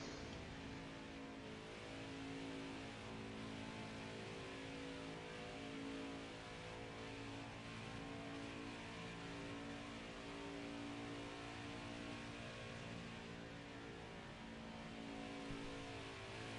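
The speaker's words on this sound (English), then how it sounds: "Four cars leaving." Several racing cars pull away on the Charlotte track in a racing video game, a steady dense engine roar with layered revving tones, continuous and even throughout.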